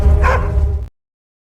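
A dog named Acu in an Italian horror film gives one loud, close bark that trails into a brief whine before cutting off into silence.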